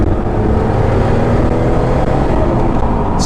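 A Noble M12 GTO-3R with a modified exhaust driven on a winding country road, a loud, continuous throaty engine and exhaust roar from inside the car, with no talking.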